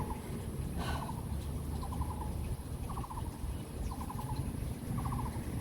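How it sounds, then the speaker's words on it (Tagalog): A bird gives a repeated gobbling, turkey-like call from a distance at an outdoor park, five short bursts spaced about a second apart over steady background noise. "Parang ibon sa malayo"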